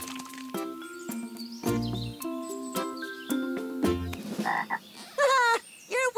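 Cartoon frogs croak in a string of short, tonal, bouncy calls, some overlapping, followed by a higher warbling chirp near the end, all loud and close with no speech.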